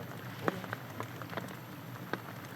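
Rain falling on an outdoor golf course during a tournament round, a steady soft hiss with scattered brief taps of drops standing out now and then, no voices.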